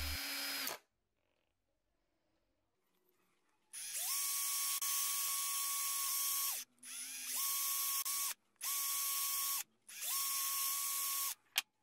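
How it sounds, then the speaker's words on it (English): A center drill bores pilot holes into a wood workpiece for lathe mounting, several loud whining bursts of a few seconds each separated by short pauses, close up with no talk. "I find it really practical to use a center drill to pre-drill for the lathe."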